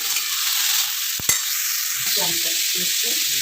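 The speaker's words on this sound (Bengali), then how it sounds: "ভালো করে একটু নাড়া করে একটু সাঁতলে নেবো একটু" Diced watermelon rind sautés in oil while being stirred, a bright sizzle under a sharp utensil click and then a run of quick scraping strokes against the pan.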